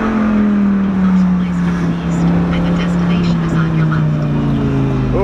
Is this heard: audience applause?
no